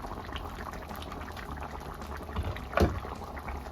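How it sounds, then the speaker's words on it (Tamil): A pot of fish curry with curry leaves bubbles and simmers steadily, a close, continuous boiling burble with one louder gurgling pop near the end. "இப்படி நல்லா வத்த விட்டு இறக்கணும்டா"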